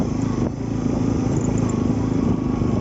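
A motorbike carrying riders on a rough, broken road between Kathmandu and Shivapuri, Nuwakot, with steady loud engine drone and clattering road rumble throughout.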